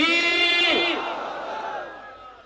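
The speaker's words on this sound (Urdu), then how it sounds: "ذرا بلند آواز سے بولے نعرہ تکبیر" At a religious conference, a crowd loudly chants the Nara-e-Takbeer slogan in one brief, strong burst of raised voices that fades away.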